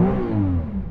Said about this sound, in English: I'm gonna start by revving up my V6.